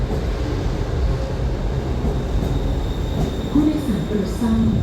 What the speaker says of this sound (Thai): ไฟมาอีกแล้วครับผม